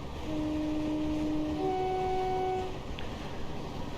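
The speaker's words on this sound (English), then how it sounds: "a bit of an asthmatic train horn, that one." A train horn of a Class 455 train in a train simulator game sounds in two overlapping tones, a steady blast lasting a couple of seconds over constant rumbling engine noise, somewhat thin and wheezy.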